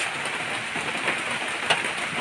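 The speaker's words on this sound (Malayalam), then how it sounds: "ചെറിയ മഴ. നല്ല മഴയല്ല, ചെറിയ മഴ." Light rain falling outdoors, a steady soft hiss of drops with a few slightly louder patters, no voices.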